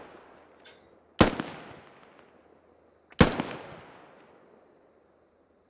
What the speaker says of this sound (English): Random rocket comes in.